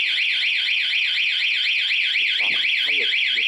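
A Honda MSX motorcycle anti-theft alarm wails loudly in a fast, rising-and-falling electronic warble, with a voice briefly heard underneath near the end.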